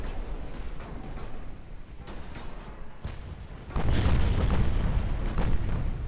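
Naval main guns fire in Ultimate Admiral: Dreadnoughts, deep booming salvos and rumbling blasts that swell into a louder, sustained roar of heavy gunfire partway through, close and powerful.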